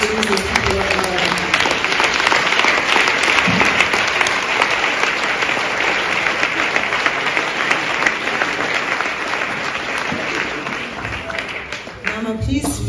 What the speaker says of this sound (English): Please clap for Jesus, people of God.